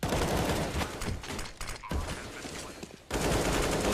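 Rapid AK rifle fire in a Counter-Strike match on the cobble map, dense bursts of shots sounding steadily for about three seconds, then a brief dip before another burst of gunfire.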